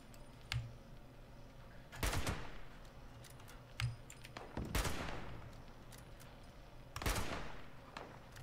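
A Super Mutant fires a minigun in Fallout 76, sounding as sharp, loud bursts of gunfire at about two, five and seven seconds that ring out and fade, with quieter clicks and thuds in between.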